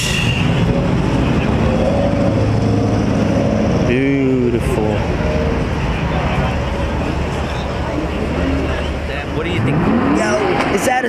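Toyota Supra engine roaring at a busy car meet, loud and continuous throughout with rising revs, surrounded by crowd chatter and other vehicles.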